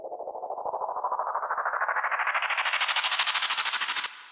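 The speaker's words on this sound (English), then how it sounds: "grab this FX sound from Vibe's free drum kit" A transition FX sound from a free trap drum kit rises steadily in pitch as a pulsing, rapidly fluttering sweep. It climbs for about four seconds, then cuts off into a brief reverb tail.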